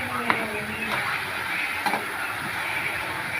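Tomatoes sauté in a pan for tomato chutney with a steady sizzle and a couple of light utensil taps; faint talk is possible underneath.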